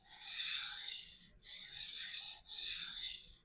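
A knife edge strokes across a whetstone in three long, smooth rasping passes with brief pauses between, close and clear with no talking.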